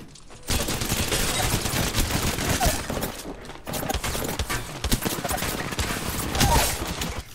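Charge rifle gunfire in the Apex Legends video game: loud, dense bursts of shots and impacts fill the clip almost continuously, with a brief gap near the middle and game sound effects layered throughout.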